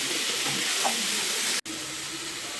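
Onions sizzle steadily in a hot pan while being cooked down for pav bhaji, a constant close hiss with a brief cut near the middle.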